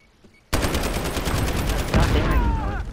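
Sniper gunfire in the video game Modern Warfare during a Search and Destroy match: a sudden loud blast followed by sustained dense firing noise, with a second surge near the end, close and continuous.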